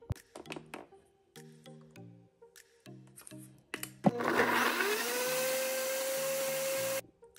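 A blender whirs up a DIY hair mask mixture of milk and olive oil, starting with a few short pulsed bursts and then running in one loud, steady roar for several seconds before cutting off.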